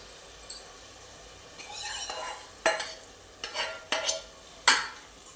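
Cooked dal is stirred into spinach khichdi in a pan, a spoon making several distinct close scraping strokes at irregular intervals over a faint, quiet background sizzle.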